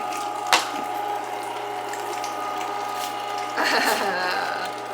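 A one-horsepower electric meat grinder coarse-grinds sausage meat with a steady close mechanical whir and ratcheting hum, a sharp knock near the start and a louder churning stretch later, with voices talking over it.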